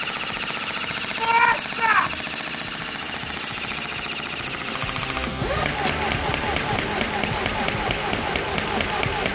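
A gun fired in burst mode produces rapid, sharp, closely spaced cracks that grow denser in the second half, with people talking and exclaiming over the shots.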